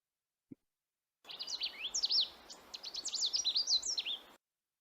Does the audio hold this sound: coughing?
no